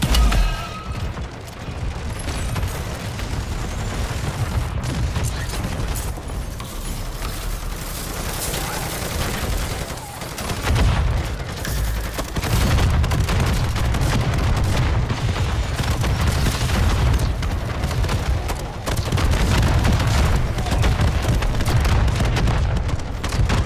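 Rapid gunfire from a weapon in the MW3 Zombies video game, a dense, continuous barrage of booming shots that runs loud and steady through the whole stretch with only brief dips.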